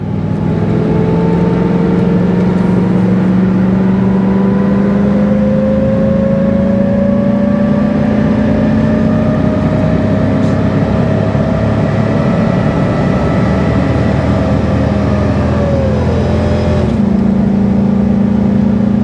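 A 2002 work truck towing a load at full throttle, its engine droning loudly and steadily for a long stretch as the pitch slowly climbs, then drops at a shift before settling again.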